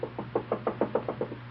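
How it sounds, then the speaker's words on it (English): Nervous knocking on a door as a radio drama sound effect: about nine quick, light raps in a steady, slightly hesitant rhythm, close and clear over a faint hum, with no voices. "Alaric, the family martyr, knocks nervously at Peg's door."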